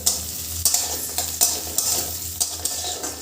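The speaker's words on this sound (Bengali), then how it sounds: "পেঁয়াজ রসুনটা আমার ভাজা হয়ে গেছে।" Garlic and onion sizzle in oil while a spatula stirs them, repeated scraping clacks against the pan punctuating a continuous close frying hiss.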